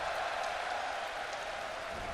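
A large arena crowd at the Dota 2 TI6 match between Fnatic and DC, cheering and applauding as a steady, fairly distant wash of noise that holds for the whole two seconds.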